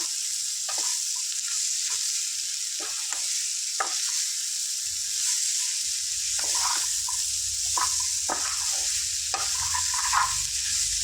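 Chopped bottle gourd stirred into frying ingredients in a pan, with a constant loud sizzle underneath and soft scraping strokes of a spoon scattered through, busier toward the end.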